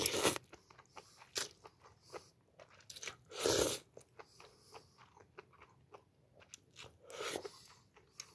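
Crunchy bites and chewing of spicy cold naengmyeon noodles, close and crisp, with a dozen or so sharp crunches spread irregularly, a few louder bursts standing out, no talking.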